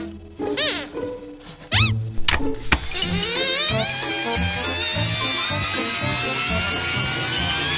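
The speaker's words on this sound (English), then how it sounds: "The nightmare of cleaning is over with the new electronic scrubbing brush." An electronic scrubbing brush for cleaning buzzes in a children's puppet comedy show. A few quick squeaky chirps come first, then a loud, steady, harmonic-rich buzz that climbs slowly in pitch and runs to the end.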